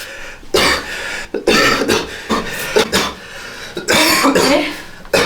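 A run of harsh, repeated coughs close by, several bursts in quick succession with brief pauses between them.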